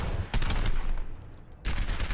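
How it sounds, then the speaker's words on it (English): Helix rockets fired at training targets in Overwatch, with loud bursts of rapid blasts and explosions, a brief lull, then another burst of fire. "Fire your helix rockets at the targets."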